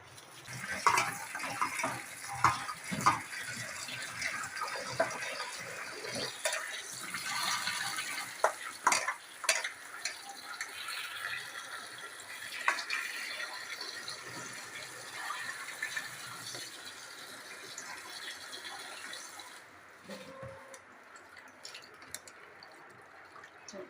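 Tap water running and splashing over washed raw mango pieces for a pickle, with the pieces stirred and sloshed by hand in a vessel; continuous close rinsing with brief clatters, no talking.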